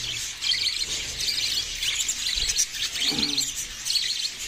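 Budgerigars kept in pairs in a breeding cage, a busy stream of bright chirps and chattering twitters overlapping throughout, close and lively, with a brief low rustle near the end.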